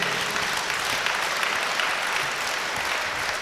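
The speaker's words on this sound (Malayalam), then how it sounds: "കൈയടിച്ചേ." An audience at a church prayer service applauds, a dense, sustained clapping that fills the room evenly throughout with no voice over it.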